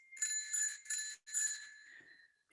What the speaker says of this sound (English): Once time is up, our dear friend bell will be rung twice.